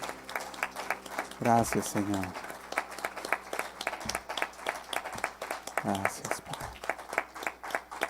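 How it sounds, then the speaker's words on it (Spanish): A crowd at a church service applauds steadily alongside spoken voices, with clapping swelling and continuing throughout under the talk. "Démosle un fuerte aplauso al Señor"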